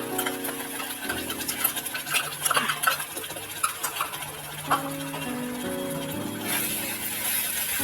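Mushrooms frying in oil with ground masala are stirred in a pan for a mushroom gravy, giving close, continuous scraping and light clinking under a steady background hum.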